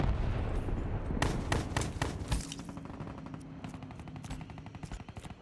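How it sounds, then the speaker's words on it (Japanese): Rapid bursts of shotgun fire in a Call of Duty: Black Ops 3 Domination match on a DLC map, sharp loud blasts clustered over the first few seconds, then fading to scattered distant shots and game noise. "ショットガン無双。"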